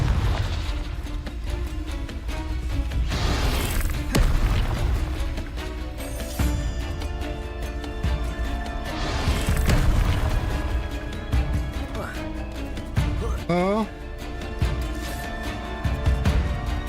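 Confringo blasting spells go off repeatedly in Hogwarts Legacy, loud booming bursts recurring every few seconds amid dense game music and effects, with whooshing streaks between impacts.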